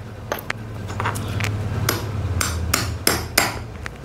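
Sharp metallic hammer blows drive a bearing into a box bottom bracket during servicing: about a dozen irregular taps and strikes, some louder ringing hits near the end, against a low steady hum.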